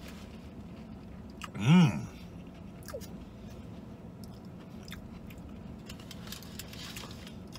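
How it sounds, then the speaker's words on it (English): Someone bites into a Burger King spicy chicken sandwich with mayo, tomato and lettuce: a single close crunch followed by quiet chewing, with a murmured sound of enjoyment. "Take a bite out of this Burger King."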